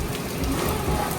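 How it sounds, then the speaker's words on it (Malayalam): Steady, heavy rain pours at a beach, with a low thunder rumble underneath; the wash of sound is continuous and loud, with no voices. "നല്ല അടിപൊളി മഴ, ഇടിയുണ്ട് ഗൈസ്."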